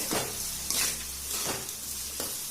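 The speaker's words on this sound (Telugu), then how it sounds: "ఆనియన్స్ కొంచెం లైట్ బ్రౌన్ కలర్ వచ్చినాయండి ఇంకొంచెం ఫ్రై అవ్వాలి" Sliced onions fry in a pan with turmeric, a steady close sizzle with a low hum beneath and a few louder spatters and stirring scrapes.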